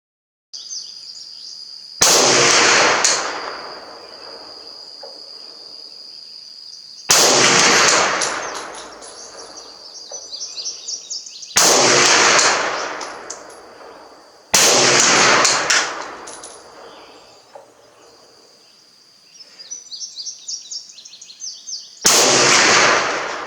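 A PPS-43 submachine gun from the Second World War fired with factory ammunition outdoors: five loud, sharp short bursts spaced several seconds apart, each followed by a ringing decay, with faint rattling between volleys.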